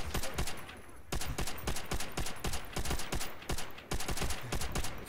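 Rapid bursts of Tommy gun hipfire in Call of Duty: World at War, clattering in repeated rhythmic volleys with brief pauses between them, loud and close throughout.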